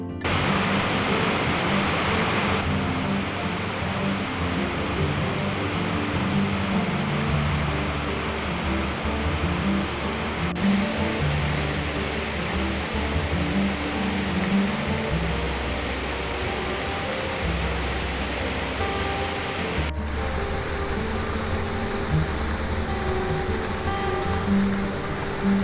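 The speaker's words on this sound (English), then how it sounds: "Here, I catch a glimpse of the falls." Iguazu Falls in Argentina, heard from the upper trail, gives a constant broad roar of falling water with no breaks and no voices over it.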